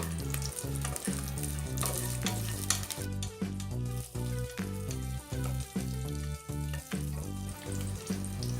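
Whole spices, bay leaves and slit green chillies sautéing in hot oil for vegetable biryani, producing a continuous close sizzle with faint crackles that runs without a break.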